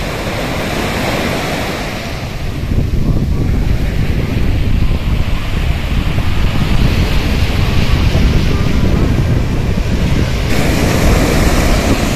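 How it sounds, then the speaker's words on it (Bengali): Sea waves roar continuously onto Baina Beach in Goa while strong wind buffets the microphone, making a dense, loud, unbroken wash of surf and gusts with no voices. "চারিদিকে এত নিস্তব্ধতার মধ্যে শুধু বাতাসের শনশন শব্দ আর সমুদ্রের গর্জন"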